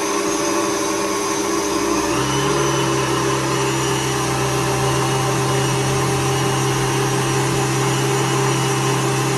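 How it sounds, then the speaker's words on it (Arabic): An electric mixer whips liquid cream into chantilly with a loud, steady high-pitched motor whine that shifts to a higher speed about two seconds in and then holds constant. "دابا غادي نضيف الكريمه السائله وغادي نطلع كل شيء على شكل شونتيي. في الاول كنبدا بدرجه يعني السرعه كتكون قليله"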